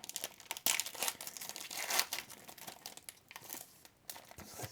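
A Pokémon card booster pack wrapper is torn open and crinkled up close: bursts of crackling foil and tearing plastic, loud then quieter, with no voices.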